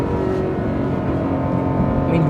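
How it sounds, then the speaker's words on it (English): A Lexus RC F with its 5-litre V8, revved hard in first gear in Sport S Plus mode and banging off the rev limiter, loud and close with a sustained, slightly wavering engine drone. "so the way it, you know, bangs off the rev limiter"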